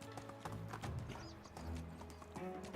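Horse hooves clip-clop at a trot in the medieval survival game Medieval Dynasty, a steady rhythmic patter close by with a faint whinny and no talk over it.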